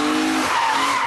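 BMW E46 M3 CSL engine note heard as a loud, brief, continuous high-revving howl with a shifting pitch and a tyre-like squeal, up close and without talk.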